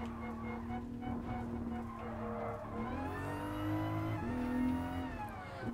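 A turbocharged race car engine in Gran Turismo Sport drones and then revs up through rising pitches, with a turbo whine and faint tire squeal; steady and fairly close.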